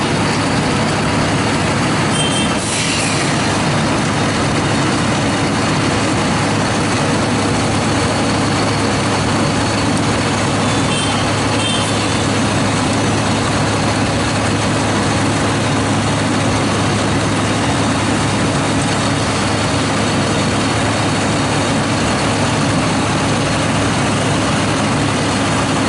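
An asphalt milling machine runs steadily at close range, its heavy diesel engine droning without a break while the conveyor boom streams cuttings into a truck, a brief higher whine rising early on.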